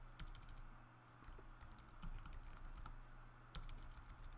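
Rapid typing on a computer keyboard during an iOS coding tutorial, a steady run of close, quiet key clicks with a few louder bursts and no talking.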